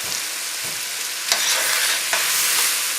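Turkey medallions and vegetables sizzle in a hot pan with a steady frying crackle, broken by a few brief louder bursts as the food is stirred and moved.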